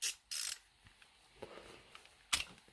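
An SK socket ratchet gives a few short, crisp clicks close up in a quiet room, with a burst near the start and another sharp click near the end.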